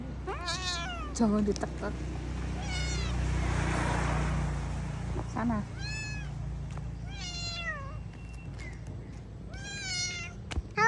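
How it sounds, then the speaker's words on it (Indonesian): A pet cat meowing repeatedly, several clear, close, drawn-out meows spaced across the clip, with people talking between them. "ini kucing aku"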